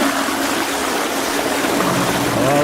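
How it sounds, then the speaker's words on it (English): A toilet flush rushes as a loud, steady wash of water from start to finish, with a faint rising squeal from the refill near the end. "We may be hearing that flush for the last time for a while yet."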